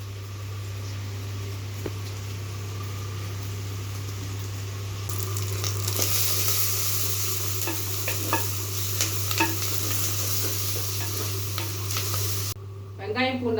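Onions, garlic and dried red chillies sizzle in hot oil for a village-style chicken dish, with a steady low hum underneath, a louder surge of frying midway, and the scrape and clack of a ladle stirring.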